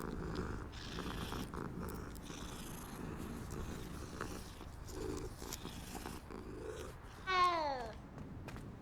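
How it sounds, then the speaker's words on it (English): Cat purring as it is petted in the video game Hogwarts Legacy, a steady low rumble running under game ambience before a brief bright rising chime near the end. "I didn't mean to pet the cat, but okay, let's pet the cat."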